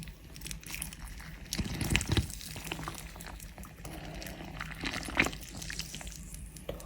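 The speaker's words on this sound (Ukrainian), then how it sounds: "додаю духмяний і заливаємо крутим кип'ятком" Boiling water from a kettle is poured into a jar of marinade with spices, a gurgling splash with bubbling and a few clinks and knocks, quiet and close.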